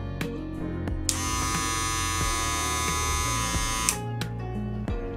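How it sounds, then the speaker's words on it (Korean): A genuine Wahl electric hair clipper buzzes steadily with a bright, high whine, switched on for a few seconds amid handling clicks. "자, 이쪽 정품입니다."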